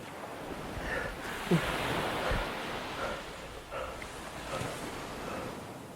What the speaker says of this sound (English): The relentless waves jostled and rolled the boat again, sending them both under.